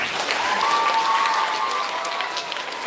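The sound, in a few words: audience applause at elementary school concert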